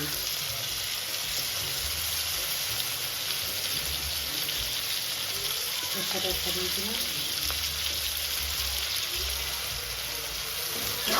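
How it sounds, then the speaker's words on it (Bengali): Prawns fry in a pan with a steady, even sizzle and crackle that holds at the same level from start to finish, with faint movement in the pan now and then. "চিংড়িটা দিয়ে এখন আমি ভালো করে কষাবো চিংড়িটা ভেজে নেব"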